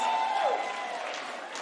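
Audience applause at the Memphis Juneteenth Freedom Luncheon ceremony, a brief steady wash of clapping at moderate level, with a faint voice briefly rising over it.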